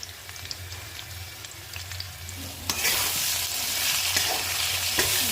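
Ginger, green chili, potato and radish fry in a pan with salt and turmeric. A quiet stirring hiss swells abruptly into loud, steady sizzling partway through, with no talking.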